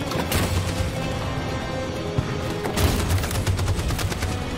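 Covering gunfire in the video game Detroit: Become Human, a loud, continuous crackle of bursts and shots, with heavier volleys near the start and again around three seconds.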